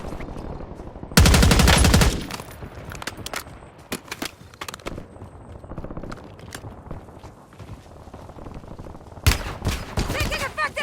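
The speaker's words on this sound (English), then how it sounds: "Taking effective fire!" Gunfire in the Call of Duty Warzone video game: a dense, loud burst of automatic fire, then scattered single shots and clicks of movement, and a second close burst near the end, with game voice lines in between.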